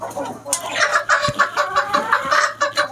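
Domestic desi chickens on a small farm cluck in a close, repeated run of short calls, several birds overlapping with a rhythmic, chattering pattern.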